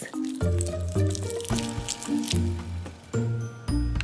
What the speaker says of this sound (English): But I love that squishy sound.